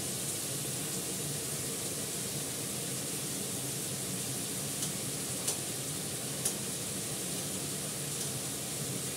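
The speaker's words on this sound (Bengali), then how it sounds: "দেখুন ভালো করে আগে ভেজে নেবো" Food frying in a pan, a steady hiss and crackle of sizzling oil that runs continuously, with a few sharper pops standing out over the constant noise.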